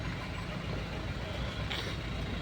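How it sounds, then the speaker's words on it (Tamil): Congested road traffic on the Bommasandra to Hosur stretch, trucks and cars packed in a jam, giving a steady low rumble of idling engines and a dense, continuous traffic wash with no clear individual passes. "பாருங்கள் எவ்வளோ டிராஃபிக் வர."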